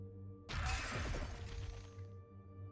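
Glass shatters in the video game Carrion (2020): a sudden loud crash with a bright, noisy burst that tapers over about a second and a half, over a steady low ambient drone.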